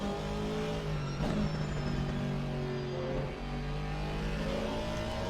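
Race car engine in Assetto Corsa Competizione at Brands Hatch, held at high revs with smooth throttle changes and gearshift dips, loud and alone with no voices.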